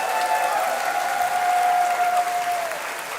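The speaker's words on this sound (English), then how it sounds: "Give us a big applause. While this wall goes up, you can keep applauding." A convention main-hall crowd applauds in a steady, dense roar of clapping, with a held musical tone beneath that fades toward the end.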